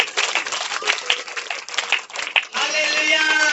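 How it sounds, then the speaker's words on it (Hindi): A church congregation claps loudly together in quick, uneven bursts for a couple of seconds, and then a voice with a sustained musical tone takes over. "जोर से ताली बजाएंगे।"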